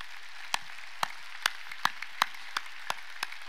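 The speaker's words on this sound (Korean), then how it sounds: "하나님께 박수 칩시다." A church congregation claps during a service: about nine sharp, evenly spaced claps ring out in a slow, steady rhythm over a quiet, hushed room.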